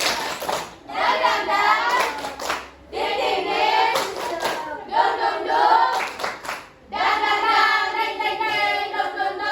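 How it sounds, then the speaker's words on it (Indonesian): Schoolchildren in a classroom perform a tepuk semangat spirit clap, chanting together in bursts punctuated by rhythmic group claps, with brief pauses between each chanted phrase. "Sebelum itu kita tepuk semangat dulu ya."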